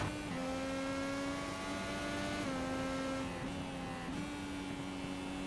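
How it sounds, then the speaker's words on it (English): A Mid-Ohio IndyCar engine, heard onboard, holds high revs in third gear as a loud, steady whine. It dips briefly at two gear changes, then climbs again. "Stays high in the revs in third gear."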